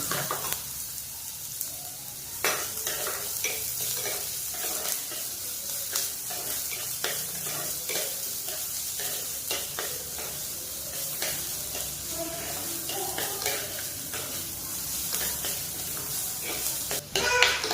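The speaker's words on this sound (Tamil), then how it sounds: "வெங்காயம் நல்லா வதங்கட்டும்" Onions with green chillies and ginger sautéing in a pan for kambu paniyaram, a steady close sizzle broken by repeated scraping stirs, with no talking.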